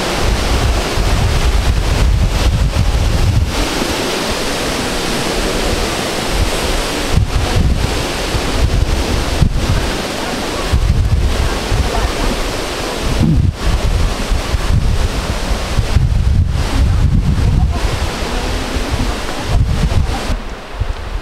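Waterfall at a tourist spot in Leon, Iloilo, a loud, constant roaring rush of falling water mixed with gusts of wind buffeting the microphone, filling the whole stretch with no talk.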